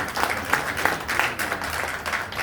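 Audience members clap together for an event sponsor, a sustained, dense burst of applause heard fairly loud and close, with no speech over it.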